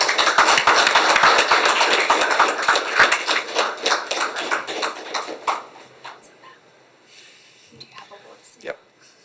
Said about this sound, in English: I now invite our hard-working officers to the stage for a big round of applause.